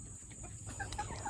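A backyard rooster gives a few short, soft clucks in quick succession, close by against a quiet outdoor background.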